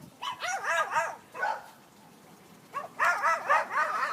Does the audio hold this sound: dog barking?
yes